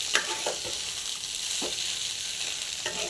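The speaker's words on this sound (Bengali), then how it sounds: "সোয়াবিনগুলো দিয়েও একটু কষিয়ে নেব" Soybeans and potatoes fry in a pan with a constant close hiss, broken by a few soft scraping stirs of a spoon against the pan.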